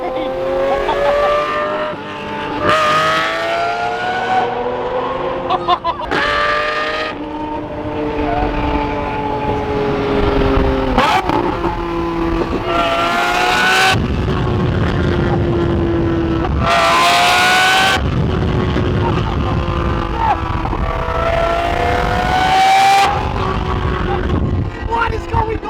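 A loud car engine revs repeatedly with sharp pops and crackles from the exhaust, under excited voices shouting over the noise.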